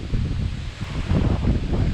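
Strong wind buffets the microphone on a trek to the Kondhane Caves near Karjat, Maharashtra, in a steady, roaring rumble with gusts rising and falling; no voices.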